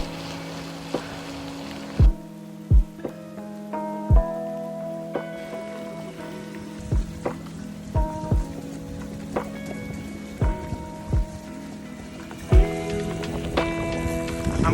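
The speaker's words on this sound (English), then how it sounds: "Lots of rain." Heavy rain falls outdoors at a muddy cycling event in Lancashire, a constant patter on surfaces broken by scattered sharp knocks and drips, with no voices.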